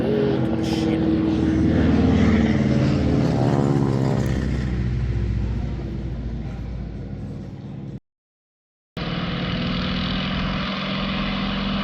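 A vintage FM2 Wildcat propeller warbird flies past at an airshow, its radial engine droning loud and steady, swelling then easing, with a brief dropout before the engine roar resumes.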